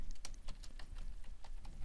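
Quick, irregular keystrokes on a computer keyboard, a short burst of close, light clicks typing a word.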